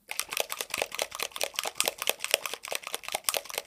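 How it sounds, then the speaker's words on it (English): A pot of black primer paint is shaken hard, its loose contents rattling in a quick, even rhythm of close, crisp clicks that repeat steadily from start to end. "Now, if you listen while I shake my black primer,"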